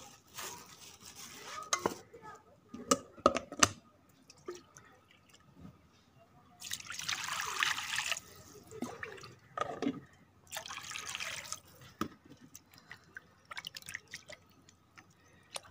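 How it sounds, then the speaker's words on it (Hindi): Raw chicken meat is washed under running water in a kitchen. Intermittent splashing and trickling mix with light clatter of a bowl or utensils over about fifteen seconds, close by and with no voices. "सबसे पहले हम मुर्गी का गोश्त अच्छी तरह धो लेंगे।"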